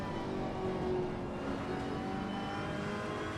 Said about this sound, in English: the complex array of sounds in the 488 are captured impeccably.